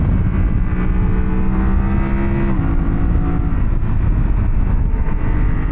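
A Yamaha Tenere 700 adventure motorcycle fitted with a quick shifter pulls hard up a mountain road, its loud, steady engine drone holding strong with a pitch shift at a gearchange midway.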